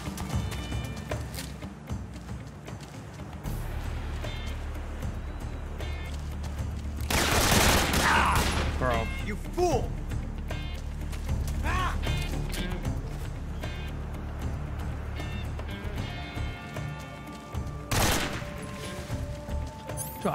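Gunfire in Metal Gear Solid 3, scattered shots and bursts over a rumbling background, with a couple of loud sharp blasts standing out, while a voice talks over parts of the action.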